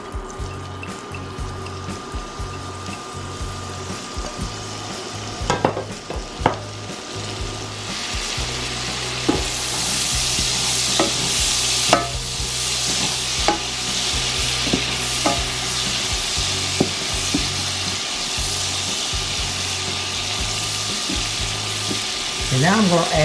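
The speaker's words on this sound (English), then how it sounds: "I'm going to put the onions in there, and I'm going to kind of saute them a little bit" Onions sauté in a pan with a steady, close sizzle and occasional stirring clatter, and a low hum running beneath.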